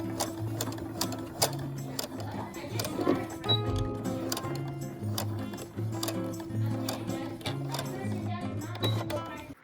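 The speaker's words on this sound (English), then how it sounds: "I'm going to sew this on to my mask, and I want to make sure that I backstitch these as well" A sewing machine stitches and backstitches straps onto a homemade reusable fabric face mask. It runs in fast, steady mechanical bursts with brief pauses and changes of speed, close up and loud.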